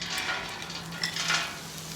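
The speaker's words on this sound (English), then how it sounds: "I'm going to hit this with a little bit of oil and cook our veggies. These are just frozen peas and carrots." Frozen peas and carrots frying in oil on a cooktop, a steady close hiss of sizzling with soft scrapes and a couple of faint utensil touches.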